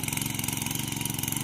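A farm tractor's diesel engine idles nearby with a steady, rapid chugging pulse and no voices.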